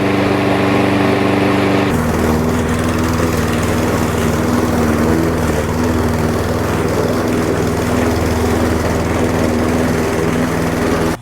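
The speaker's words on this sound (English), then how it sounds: "so I started cutting the grass, but then it died again" Lawn mower engine running steadily while cutting grass after spring maintenance: a loud, close, continuous droning hum with a slight shift in tone near the start, then cutting off abruptly at the end.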